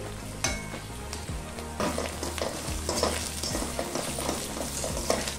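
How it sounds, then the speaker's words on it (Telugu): Ginger garlic paste and ground spices frying in oil in a pan for a methi malai matar curry, with a steady sizzle and repeated stirring scrapes, close and continuous without speech. "అల్లం వెల్లుల్లి కూడా వేగాక ఇందులోకి మనం తీసుకున్న మసాలాలు వేసుకోవాలి"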